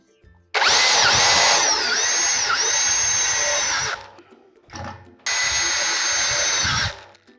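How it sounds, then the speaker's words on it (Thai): A power drill whines loudly as it drives a self-drilling screw in a garage electrical conduit installation, running about three and a half seconds, pausing with a brief blip, then running again for nearly two seconds. "ขันสกรูเลยนะครับ ใช้ สกรูปลายสว่านแบบนี้"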